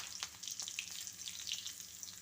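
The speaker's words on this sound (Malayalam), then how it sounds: "ചൂടായ എണ്ണയിലേക്ക് കടുക് പൊട്ടി തീരുമ്പോഴത്തേക്ക് മുളകിട്ട് കൊടുക്കാം" Mustard seeds and chillies frying in hot oil as a tempering for a dal curry: a soft, continuous crackling sizzle with small pops, faint and close, with no talking.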